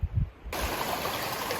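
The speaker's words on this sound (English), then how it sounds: "Literally a waterfall coming down the trail." Rushing water pours down a flooded Appalachian Trail path like a small waterfall, a steady close broadband splash and roar after a few footsteps.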